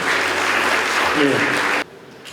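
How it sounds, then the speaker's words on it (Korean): Applause for appointed members at the official launch ceremony of the Gyeongbuk education 2030 transformation task force, a dense crowd clapping for about two seconds before stopping abruptly, with a brief voice mixed in. "위촉 계신 모든 분들께 큰 박수 한번 부탁드리겠습니다"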